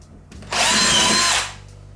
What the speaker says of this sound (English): maybe the drill bit is a bit blunt